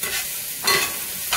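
Chopped garlic and chili sauté in a pan with a bright, steady sizzle, broken by two short bursts of stirring scrapes; no talking.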